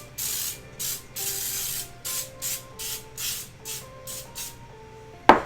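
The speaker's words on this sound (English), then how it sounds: "I'm just going to go ahead and spray this in here. This is basically a baking spray with flour." Baking spray with flour sprayed into a glass pie dish: a string of about nine short, bright hissing bursts in an even rhythm, close up, ending with a sharp clack.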